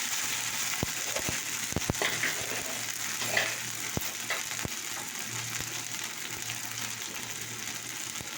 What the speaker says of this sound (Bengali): এটাকে আমি একটু ভেজে নেব, একটুখানি ভেজে নেব।